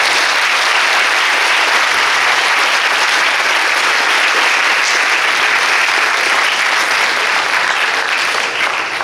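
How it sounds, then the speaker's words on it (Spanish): Strong, loud applause from a forum audience welcoming a speaker, a thick, continuous wash of clapping that stays full and even from start to finish. "Le damos la bienvenida con un fuerte aplauso."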